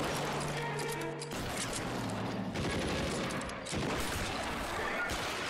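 Gunfire in the video game LA Noire, with rapid bursts of shots and clattering impacts over a constant dense layer of action noise, loud and close throughout.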